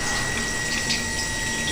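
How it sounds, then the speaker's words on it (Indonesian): Hands are rinsed under running tap water, a steady, close splashing hiss of flowing water that continues evenly throughout, with no voices. "kita basuhi tangan dengan air mengalir"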